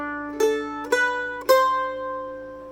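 Three plucked notes of a jig phrase on a stringed instrument, each a sharp attack ringing out with sustained harmonics, played alone and fairly close with no talking.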